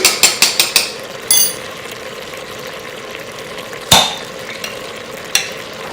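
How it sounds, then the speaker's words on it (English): A jar of mild salsa is emptied into an Instant Pot: a quick run of close, crisp clicks, then a few sharp clinks and knocks of glass against the pot, with no one talking. "this is when we pour our salsa on"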